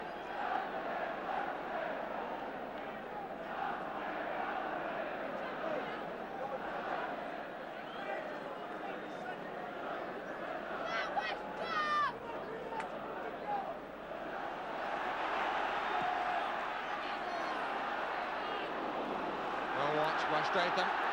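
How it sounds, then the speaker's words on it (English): A large football crowd at a 1981 First Division match involving Leeds roars steadily after a goal, a dense sustained wash of cheering that swells again near the end, with a commentator's voice running over it. "Certainly brought the crowd to life"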